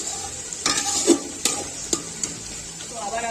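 Mutton being stirred and fried in a pot for biryani sizzles softly under several sharp scrapes and knocks of a spoon against the metal, close and uneven in rhythm over a few seconds.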